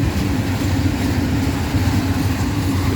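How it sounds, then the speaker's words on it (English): A long PESA Gamma electric locomotive train rolls through a station in Tłuszcz, Poland, giving a steady, loud, continuous low rumble and rail noise that holds evenly for the whole stretch. "The PESA Gamma locomotive is quite popular in Poland."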